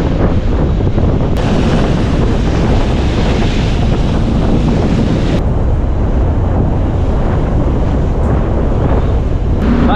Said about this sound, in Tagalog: dahil malakas na yung hangin